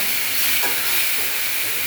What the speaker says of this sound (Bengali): তো দেখো আলুটা লাল করে ভেজে কিন্তু মশলাটা দিয়ে দিলাম